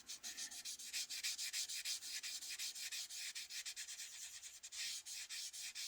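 A plastic 1968 AMT Corvair model car body being sanded by hand in preparation for paint: quick, steady back-and-forth scratchy strokes, close and rough, with no talking.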